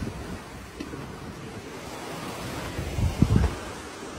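Ocean waves washing against a sailboat's hull under steady wind noise, a continuous close rush with a louder splash near the end, no voices.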